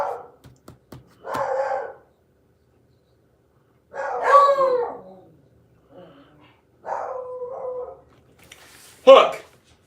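Scattered hunting dog barks and yelps in short bursts, some sharp and high, separated by pauses, heard outdoors on a rabbit hunt with no talking.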